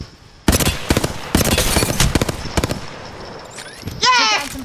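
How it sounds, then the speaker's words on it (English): Video game gunfire in Apex Legends: several loud bursts of rapid shots in quick succession, with a chirping electronic effect near the end and a voice speaking underneath. "Getting shot at."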